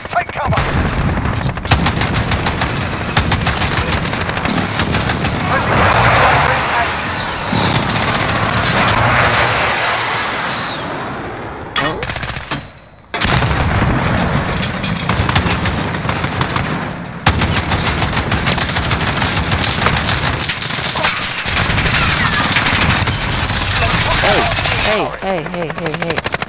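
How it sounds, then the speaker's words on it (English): Precision airstrike in Modern Warfare, with loud, sustained rapid gunfire and booming bursts mixed with aircraft-like roar and in-game voice callouts, broken by a brief lull midway. "Enemy precision airstrike."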